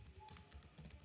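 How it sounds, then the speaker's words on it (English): A few faint, quick keystrokes tap on a computer keyboard, a soft close-up clicking with no talking. "I'm just gonna type in, give me Excel formula"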